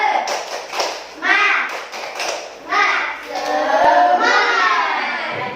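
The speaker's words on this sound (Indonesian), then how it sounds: "Tepuk semangat." A classroom of students performs the rhythmic 'tepuk semangat' clapping chant, bursts of patterned claps mixed with children's chanting voices, fairly close and loud.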